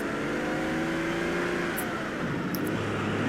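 A car engine in GTA San Andreas, an ordinary car driving quite fast, holds a steady loud revving drone throughout, with a couple of brief high clicks midway and no speech.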